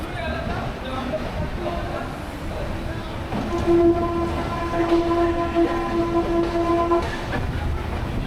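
A passenger train departing from Kolkata rumbles steadily along the rails, with a sustained horn-like tone sounding through the middle stretch and faint voices in the background.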